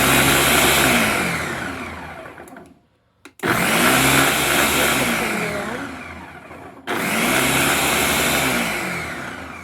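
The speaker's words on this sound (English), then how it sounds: "I'm just going to be doing just a blend to begin with." Countertop blender mixing soup ingredients roars loudly and steadily, cutting out briefly twice in pulses before whirring back up.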